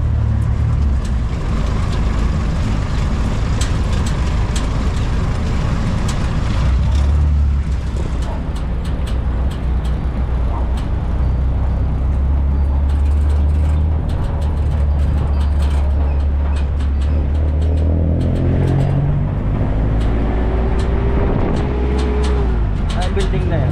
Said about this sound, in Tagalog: Kaya sasuungin mo yung traffic na yon.